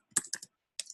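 Computer keyboard typing heard up close in a quiet room, a few crisp key clicks in a quick cluster, a short pause, then two more taps.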